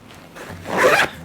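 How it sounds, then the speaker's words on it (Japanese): A zipper slides open or closed on a large side pocket of a Mystery Ranch Bridger trekking backpack, one quick rasping pull that swells and fades, close and alone. "両サイド2本のジッパーで 開閉する 大型の単一の独立したポケットになっています"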